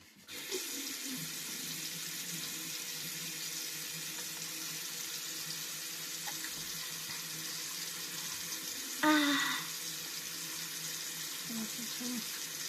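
A bathroom tap runs steadily into a sink while a child brushes teeth, with a brief splash or clatter partway through and soft voices talking over the water.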